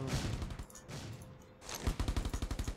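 An AK rifle fires a rapid, rhythmic burst in the mobile shooter Rules of Survival. The shots are close and crisp, with a clear run of repeated cracks near the end.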